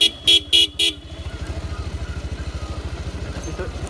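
A motorbike horn gives four sharp toots close by on a ride, then the bike's engine carries on with a quick, even putter.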